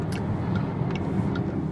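Renault Megane E-Tech electric car accelerating on a motorway, heard from inside as a steady broadband road and wind rush with a low rumble and faint high whine, continuous and fairly loud.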